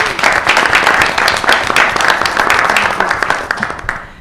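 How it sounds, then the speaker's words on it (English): A school board meeting audience gives a round of applause, loud and close, many hands clapping in a busy, uneven rhythm for about four seconds before tapering off. "just give them all a round of applause"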